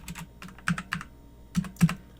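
Typing a command into a network switch on a computer keyboard, a handful of separate close key clicks and clacks in uneven bursts, with no talking.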